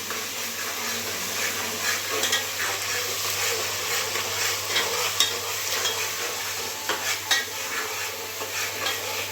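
Onions fry in a pan for egg masala, giving a continuous close sizzle with a soft crackle and frequent stirring scrapes throughout and no talk.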